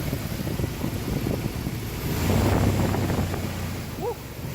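Wind rushes and buffets under the raised hood of a 1997 Dodge Ram 1500 4x4, a loud, gusty roar over a low engine rumble, swelling in the middle and then easing off.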